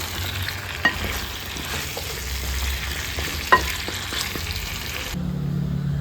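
Ground masala frying and being stirred in a pan for a dry fish curry, a steady close sizzle with a couple of sharp scraping clicks from the spoon, cutting off near the end.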